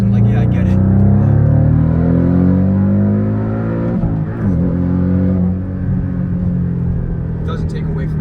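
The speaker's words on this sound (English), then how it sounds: "that turbo noise that this car makes" Turbocharged Porsche Cayman S engine revving close up, a loud deep rumble with rising and falling harmonic tones sustained throughout, easing slightly midway before holding steady.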